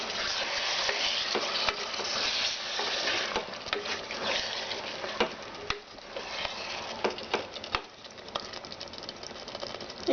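Chicken stirred with sour curd in a cooking pot for chicken pulao, making a constant moist sizzle with close, irregular scraping and tapping of the spoon throughout.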